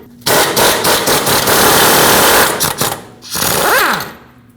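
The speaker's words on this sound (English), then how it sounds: "use my impact to get the nut over that" An impact wrench with a 22mm socket spins off a tie rod mounting nut on a 2005-2021 Nissan Frontier, giving a loud, continuous rattling burst, a short pause, then another hammering burst that winds down.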